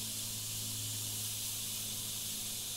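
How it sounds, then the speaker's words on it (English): An airbrush sprays red paint over a blood splatter template, giving a steady, continuous hiss throughout, close and even in level, with a low hum beneath it. "just gonna airbrush"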